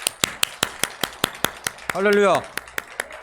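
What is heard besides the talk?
congregation applause in church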